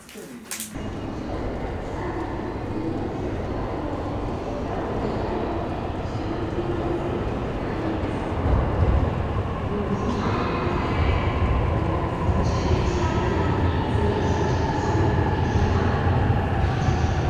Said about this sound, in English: As the train comes in